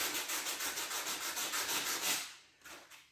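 Old lacquer is sanded off Huon pine timber on a sailboat in steady rhythmic back-and-forth strokes, a close, loud, raspy scrubbing that pauses briefly before one last stroke.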